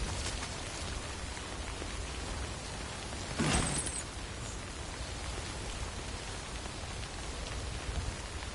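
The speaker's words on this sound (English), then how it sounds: "Recover your cargo, then find shelter from the rain." Steady rain hisses down in the video game Death Stranding, an even wash of noise with a brief brighter swell partway through and no one speaking.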